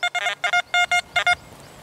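An XP Deus metal detector sweeping over a coin at reactivity 0 gives a run of short, bright electronic beeps in quick groups, close and clear, fading to quiet near the end.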